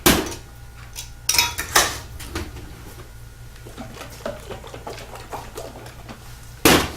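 A lidded jar of oxymel ingredients with herbs is shaken vigorously, giving sharp clattering bursts at the start and end with quieter rattling in between, close and alone.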